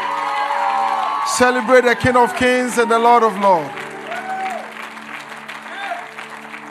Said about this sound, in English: Give Jesus the biggest hand clap you've ever given anyone.